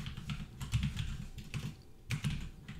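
Rapid, uneven keystrokes on a computer keyboard while writing Unity 3D code, close and clear, with brief pauses between bursts and no talking.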